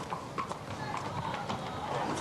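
Horses of the RCMP Musical Ride arrive on hoofbeats, a steady clip-clop drawing nearer under a continuous outdoor murmur.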